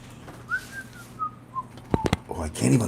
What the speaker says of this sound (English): Oh, I can't even whistle, can I